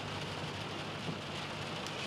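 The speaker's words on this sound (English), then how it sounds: "we've had driving rain, a lot of lightning as well" Heavy driving rain during a thunderstorm in metro Atlanta, a dense, steady hiss of rainfall hammering surfaces close by, continuous and loud with no voices.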